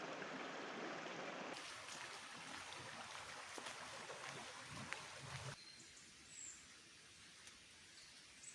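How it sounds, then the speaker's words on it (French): Foltier stream in the Bilhard gorges near Monistrol-sur-Loire, Haute-Loire, flowing as a steady broadband rush of water, loud and close, then dropping to a softer, more distant wash partway through. "Voici le ruisseau de Foltier."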